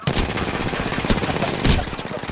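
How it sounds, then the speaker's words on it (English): Rapid automatic gunfire in Apex Legends rattles continuously at close range, dense overlapping shots with a couple of louder bursts standing out. "I'm taking shots."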